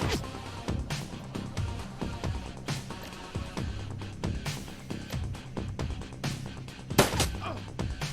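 Gunfire in the Shadowrun Returns video game, a series of sharp pistol-like shots spread across the stretch over a dense bed of game music and ambience, moderately loud.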